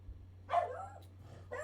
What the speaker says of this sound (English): I don't know what he's barking at, but he's barking at something.